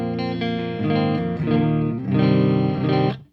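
Clean electric guitar played through a Marshall Valvestate amplifier, sustained chords and single notes ringing out bright and clear with a little reverb, alone with no talk, fading at the end.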